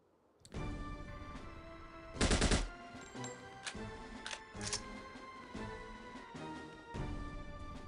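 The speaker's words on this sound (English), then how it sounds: "Suppress submachine gun." Suppressed submachine gun fire from the video game No One Lives Forever: after a quiet start, clicks and muffled rapid bursts mix with short mechanical clatters and game effects, fairly quiet, with no voices.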